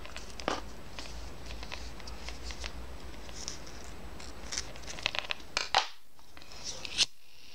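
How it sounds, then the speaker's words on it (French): Scissors snip through the thread of a knotted Shamballa-style double bracelet, with small crisp clicks and rustling close up, then a few sharper cuts near the end in an otherwise quiet setting. "on va couper le fil sur le côté"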